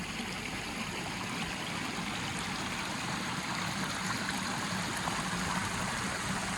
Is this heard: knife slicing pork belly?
no